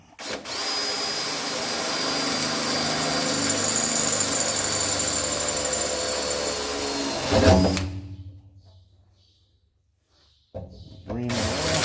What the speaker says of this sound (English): And we'll drill that hole out.